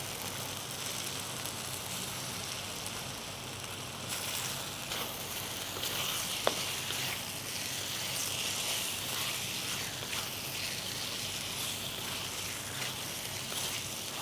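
Tiger shrimp sizzle steadily in hot chili paste in a pan, a dense, even crackle and hiss that runs the whole time, close and fairly loud with no talking.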